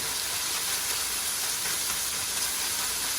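Carne asada beef sizzling in a hot pan, a steady loud hiss with no break and no voices.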